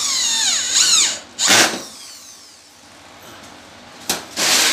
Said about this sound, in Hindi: और फिर बाद में यहाँ स्क्रू मार देना है